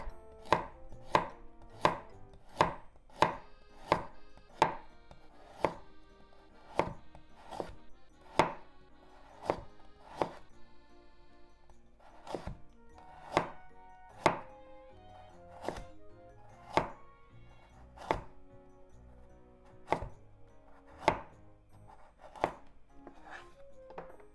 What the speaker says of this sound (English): So make thin diagonal slices first.